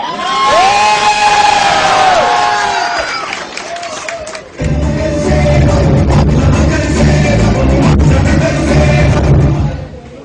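A large crowd cheers and shouts at a ward election gathering, loud and sustained throughout, with whoops and voices rising early and a dense roar of noise continuing after a brief dip.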